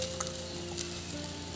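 Egg yolk poured into a hot pan for an omelette fries with a soft, even sizzle, fairly quiet and close, with faint background hum and no voices.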